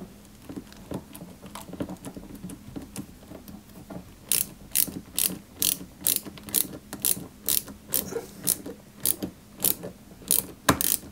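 A small screw is driven into a 1/8 scale Citroen 2CV AZLP model with a hand screwdriver, giving a close, rhythmic series of sharp ratcheting clicks that quickens and continues for several seconds, with no talking.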